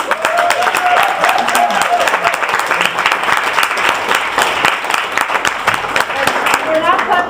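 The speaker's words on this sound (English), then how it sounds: "we're not clapping too loud because it's only lunch" Lunch audience at a keynote clapping steadily at moderate volume, dense hand claps sustained throughout, with voices talking and calling out beneath.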